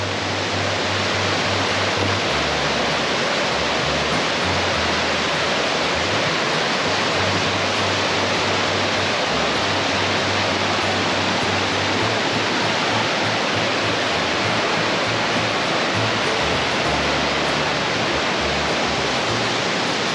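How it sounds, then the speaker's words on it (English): A small stream in Tiadaghton State Forest runs unusually high, its water rushing in a steady, dense broadband roar that never lets up, close and loud throughout. "This is a little stream that runs through."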